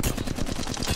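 Rapid automatic gunfire in an Apex Legends match aimed at a Valkyrie, a dense burst of closely spaced loud shots filling the whole moment.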